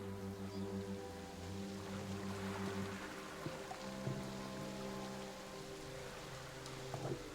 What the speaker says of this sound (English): And it starts raining.